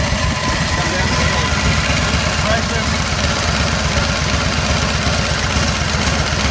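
A 1931 Indian Scout 101 motorcycle engine runs steadily at close range, a loud, continuous low throb with fast, even firing pulses and no pauses throughout.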